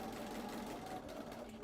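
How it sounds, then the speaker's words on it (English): Home sewing machine stitching a pinned quilt block for a free-form Drunkard's Path pattern, a steady continuous mechanical whir running close and level throughout with no pauses. "So let's jump over to the sewing machine."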